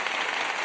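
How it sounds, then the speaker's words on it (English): Brief burst of applause and clapping from a small group, steady and fairly loud through the whole moment, with no talking over it. "Applause for that one."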